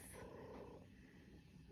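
A pet cat purring, a soft low continuous rumble heard close but faint, ending with a brief sharper sound right at the close.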